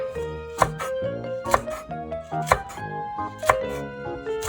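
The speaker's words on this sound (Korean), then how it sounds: "매콤하게 드실 분들은 청양고추 1개에서 2개 정도 썰어 넣어 주시고요" Cheongyang chili peppers are chopped on a board with a knife, giving sharp, evenly spaced taps about once a second over steady background music.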